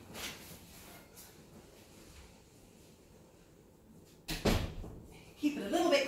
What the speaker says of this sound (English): Just going to shut my door.